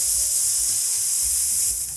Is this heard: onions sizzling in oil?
yes